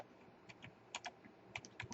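Typing on a computer keyboard during a programming lesson: a short, uneven run of crisp key clicks in small bursts, close and clear, with no talking over it.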